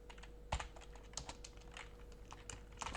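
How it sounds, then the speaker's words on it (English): Close, quiet typing on a computer keyboard, a quick irregular patter of key clicks over a few seconds with a faint steady hum behind it. "let me type this in"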